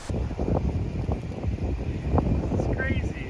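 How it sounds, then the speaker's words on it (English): Strong, steady wind blowing across an open beach on Curieuse Island in the Seychelles, a continuous low rumble of gusts buffeting the microphone, with voices faintly mixed in. "It is quite windy"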